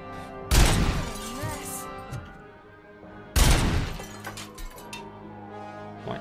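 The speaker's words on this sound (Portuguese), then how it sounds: "Deixa eu dar um tiro." Two heavy gunshots from RoboCop's weapon in the game RoboCop: Rogue City, each a loud sharp blast with a long crashing decay, about three seconds apart, with faint game sounds between.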